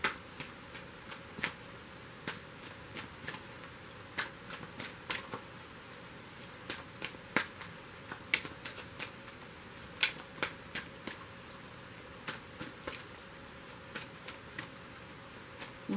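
Angel romance oracle cards being shuffled by hand, a steady run of crisp, close riffling flicks and soft card slaps continuing throughout with no talking.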